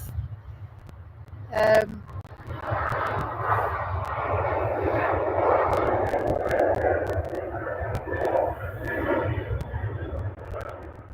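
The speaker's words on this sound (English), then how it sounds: "That landing of the A380, it was something else" An Airbus A380 lands at Manchester Airport, heard from outside as a broad roaring engine rush that swells and stays steady, heard from a distance over low background rumble, after a brief sharp noise near the start.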